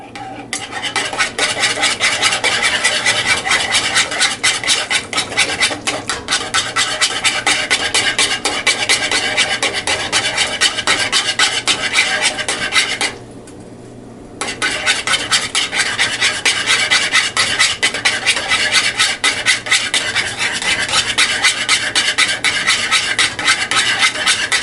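A metal whisk scrapes steadily and rapidly around a pot of macaroni and cheese sauce, a loud continuous rasping rhythm with one brief pause partway through.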